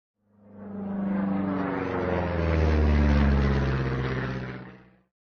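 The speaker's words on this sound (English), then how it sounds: "This is an airplane. It flies in the sky." A propeller airplane engine drones steadily at moderate loudness, swelling slightly toward the middle before cutting off, with no talking over it.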